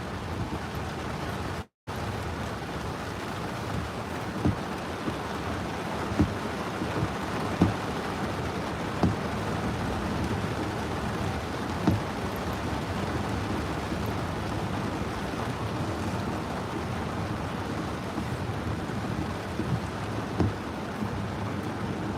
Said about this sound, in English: and of course the rain is coming down.